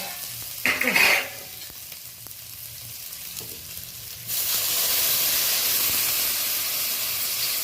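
A small splash of water meets a sizzling ginger, chilli and onion spice paste in a pan, a brief loud burst of sizzle followed by quieter cooking, then a strong steady hiss of steam that holds to the end.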